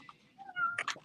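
A cat meows in short rising and falling calls, close but fairly quiet, with a couple of quick chirpy bursts at the end and no talk over it.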